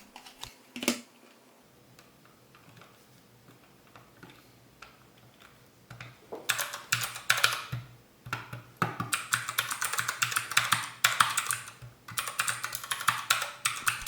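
Cherry MX mechanical key switches clicking on a DIY ESPHome controlpad: a few sparse clicks, then rapid continuous close-up clicking in quick bursts with short pauses.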